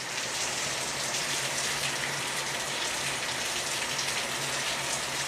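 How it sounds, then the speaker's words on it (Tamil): Rain keeps falling outdoors as a constant, dense hiss of drops pattering on surfaces, steady and fairly close, with a faint low hum beneath and no speech. "மழை விட்டுடும்னு பார்த்தா மழை விடலை இன்னும் பேஞ்சின்னு தான் இருக்குது"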